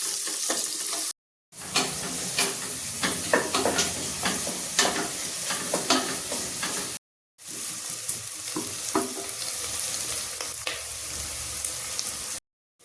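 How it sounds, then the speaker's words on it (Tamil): Biryani ingredients sauté and are stirred in a pan, giving a steady close sizzle with repeated scraping and clinking strokes of the spoon, broken by two brief silent gaps. "இது கொஞ்சம் வதங்கட்டும், கொஞ்சம் நல்ல ப்ரௌன் ஆகட்டும்"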